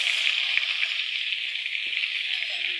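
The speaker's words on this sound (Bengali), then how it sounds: "এই যে প্রথমত আমি সব মশলাগুলো দিয়ে দিলাম কড়াইতে।" Onion, garlic, chili and cumin pastes frying in a wok, an even hissing sizzle held steady and close throughout.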